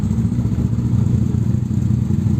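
A classic car engine idles steadily at the Classic Days meeting at Magny-Cours, a loud, even, low rumble that runs throughout without a break.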